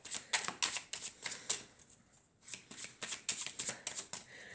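Tarot cards being shuffled and cut: bursts of crisp riffling and flapping card noise in a quick rhythm, close and clear, with a short pause midway and no talking.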